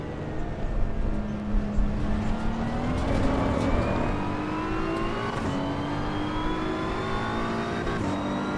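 A race car engine in the AC Evo video game pulls steadily through the revs, its pitch climbing in stages as gears change, with brief blips where it drops through downshifts, loud and close without talk.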